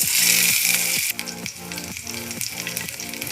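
Chopped ginger and green chillies fry in a spoonful of ghee and oil, giving a loud, steady hiss. The sizzle settles slightly after a second, and a regular stirring or scraping rhythm runs beneath it.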